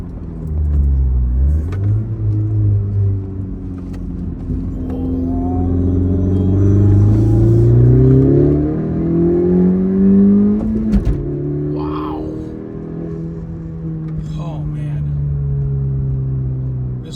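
A modified 2019 Honda Civic Si turbo with a six-speed manual pulls hard through the gears, its engine note climbing and falling with each shift, loud and close inside the cabin.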